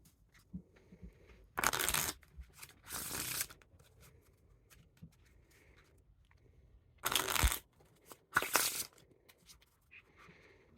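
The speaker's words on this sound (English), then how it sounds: "Time for the riffle shuffle or bridge shuffle." Orbit Christmas 2021 edition playing cards riffle-shuffled in two pairs of quick, crisp bursts of fluttering snaps, separated by quiet pauses with light handling noise.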